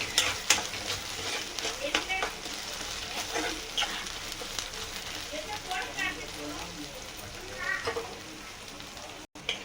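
Chopped green chillies are stirred in a hot pan with steady frying sizzle and scraping strokes, the clatter of a spoon rising and falling over roughly ten seconds, with a voice speaking over it.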